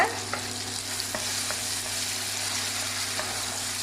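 Ginger garlic paste, onion and tomato sautéing in a pan for egg rice: a continuous close sizzle with occasional stirring taps and scrapes and a steady low hum beneath, no talking.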